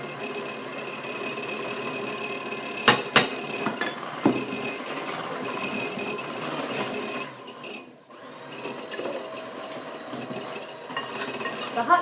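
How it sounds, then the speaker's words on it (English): Flour is stirred into hot milk cake batter in a bowl, a steady scraping and clinking of utensil against the bowl with a few sharper knocks, close and moderately loud. "I'm going to keep stirring it so that it will blend in nicely."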